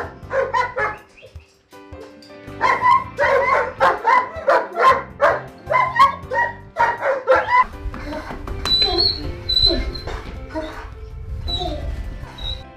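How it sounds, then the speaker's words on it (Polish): German shepherd dogs bark loudly and repeatedly in quick bursts close by, followed by softer yips and whimpers with some background noise. "Oprócz gołębi Grzegorz jest miłośnikiem psów, a w szczególności owczarków niemieckich"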